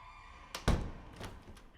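A door shuts with a dull thunk, followed by faint rattling and a softer knock as it settles, heard quietly in an indoor scene with no talk.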